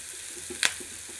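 Onions frying in a pan for an egg and mango curry give off a steady, soft sizzle with one brief, brighter clink partway through.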